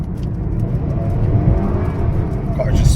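A 2018 Honda Accord 2.0T with a K&N intake and JB4 tune accelerates with its wheels spinning, a steady close engine drone and tyre whir rising gradually, with someone talking over it.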